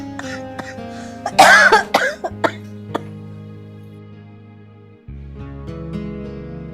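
A short burst of harsh coughing near the start, followed by a strained voice and quieter rumbling afterward.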